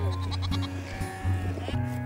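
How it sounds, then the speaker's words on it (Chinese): Sheep bleat repeatedly on open grassland near herds of cattle, with several loud, close wavering calls following one another in quick succession. "在哞儿哞儿和咩咩的背景音里"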